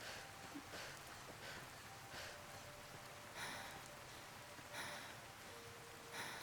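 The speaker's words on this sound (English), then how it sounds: "now I have to listen to rain as well" Steady rain in the video game Fallout: New Vegas, a soft continuous hiss with occasional brighter splashy bursts, faint and even throughout with no talk.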